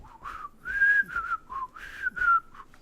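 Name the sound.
whistling the Andy Griffith Show theme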